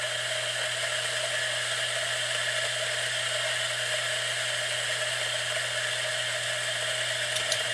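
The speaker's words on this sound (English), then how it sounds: "Let's grind a dose." A DF64 grinder with SSP burrs grinds an espresso dose into a portafilter, a steady whirring motor drone that holds evenly throughout, close and moderately loud.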